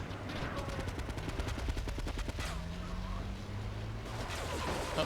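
Automatic gunfire in the video game Grand Theft Auto III during a dam finale battle, rapid bursts of shots in quick succession over a low rumbling background, fairly faint.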